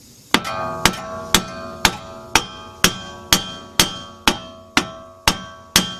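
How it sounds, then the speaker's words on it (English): Twelve sharp metallic hammer blows strike a Ford car's steering knuckle at a steady rhythm, each ringing briefly before the next, loud and close with no talking. "Our job now is to hammer on this knuckle."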